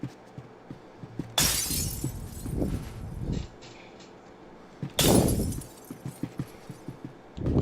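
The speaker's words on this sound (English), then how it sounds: "Somebody breaking glass." Glass shattering in a video game, two sharp loud crashes a few seconds apart, each trailing into tinkling shards and scattered thuds over quiet background.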